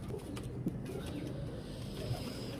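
Hino breed pigeons cooing inside a pigeon house, soft low coos repeating through the clip over a steady background hum, with a couple of slightly louder calls standing out near the middle and toward the end.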